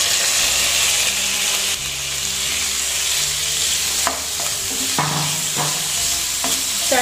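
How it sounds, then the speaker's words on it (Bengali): Marinated chicken fries in hot oil with a steady, loud sizzle, and several scraping and clinking utensil strokes sound against the pan close by. "তেল আমার এখানে গরম হয়ে গেছে, আমি ম্যারিনেট করা চিকেনটা দিয়ে দেব।"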